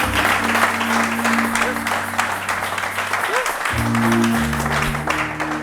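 Church congregation applauding and cheering to acclaim the Lord, a dense, steady wash of clapping from a crowd over sustained organ-like keyboard tones, with voices mixed in throughout.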